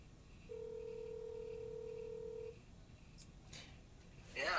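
A single steady telephone tone sounds for about two seconds as a call is placed, followed by quieter faint clicks and rustling, with no voices.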